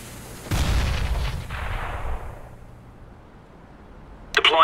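A grenade detonating in Counter-Strike during a Snax vs. Titan match at EMS One Katowice 2014, a single heavy boom with a rumbling tail fading over two seconds, followed by a brief sharp metallic rattle.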